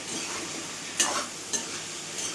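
Eggplant curry is stirred in a frying pan, a close sizzle with two distinct scraping strokes of a spoon against the pan, and no voices.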